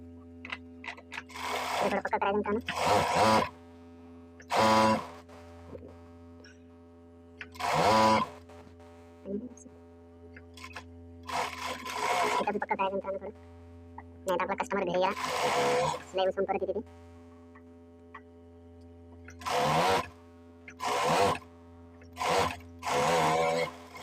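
A tailor's sewing machine stitches a shirt in repeated short bursts separated by pauses, close and fairly loud over a steady low hum, with someone speaking in the gaps.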